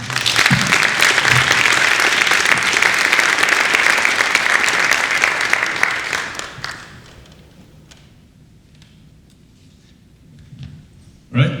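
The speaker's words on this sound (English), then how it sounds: "Let's give a big round of applause to our city manager" A large dinner audience at a city address applauds the city manager, steady loud clapping for about six seconds before fading into a quiet room, with a brief bump near the end.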